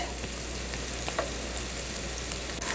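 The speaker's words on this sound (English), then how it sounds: "Want to get those onions to where they're just a little bit golden brown." Onions frying in a pan toward golden brown give off a continuous, even sizzle with faint crackles, close and steady throughout with no talking.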